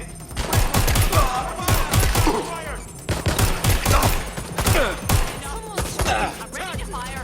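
Rapid bursts of gunfire in the Watch Dogs Legion video game, loud and close, with repeated volleys of sharp shots, impacts and echoing cracks layered over shouted voices.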